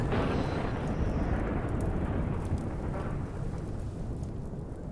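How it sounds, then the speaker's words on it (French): A thunderstorm in the video game RimWorld gives a loud, deep rolling rumble with dense rain-like hiss, sustained for several seconds and slowly easing, with no voices over it. "Oh, tiens, il y a de l'orage."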